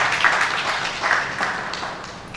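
Audience applause at a health reporters' network training session, a steady wash of clapping from a moderately close crowd lasting a couple of seconds with small swells.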